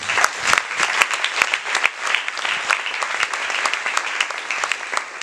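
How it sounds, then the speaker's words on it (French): Church congregation applauding together at a service: dense, steady clapping from many hands fills the room without pause, with scattered sharper claps standing out and no talk. "Acclamez-vous vous-même."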